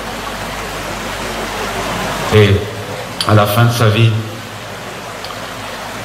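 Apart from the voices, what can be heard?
small stream flowing under Saint-Lambert bridge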